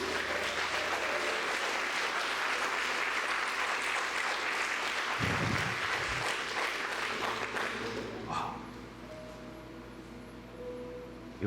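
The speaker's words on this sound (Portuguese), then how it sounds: "Aplauda Jesus!" A church congregation applauds in a dense, steady wash of clapping that carries on for about eight seconds, then thins out and fades into quieter room sound.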